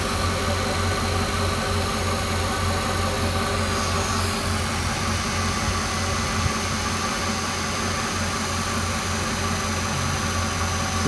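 A 2006 Mercedes CL500 W215 engine idles steadily after a fuel filter replacement, a constant low hum and hiss with a broad noisy wash, close and even throughout.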